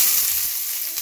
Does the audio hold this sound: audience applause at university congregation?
no